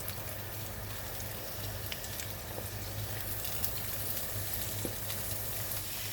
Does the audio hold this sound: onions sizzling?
yes